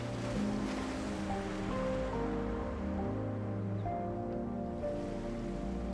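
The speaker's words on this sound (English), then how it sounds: "listening to the gentle sound of oars on the water" Oars move through the water of a lake in China, heard as a soft continuous wash of water and wind with low tones underneath, steady and unhurried.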